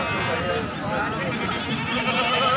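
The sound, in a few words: Makhi Cheeni goat bleating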